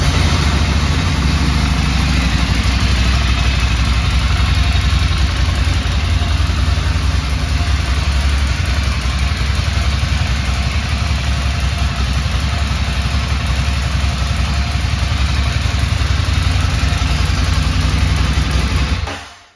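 A 2012 Ducati Hypermotard 796 motorcycle engine idles steadily and loudly close by for about twenty seconds, a constant throbbing rumble with no talk, cutting off at the end.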